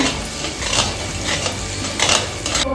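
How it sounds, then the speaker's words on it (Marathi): Semolina roasts in ghee while being stirred in a pan for a sweet sheera offering, giving a steady close scraping and stirring rumble with light sizzle and no pauses. "आता आपण यामध्ये मस्तपैकी आपण रवा तुपामध्ये भाजून घेऊया"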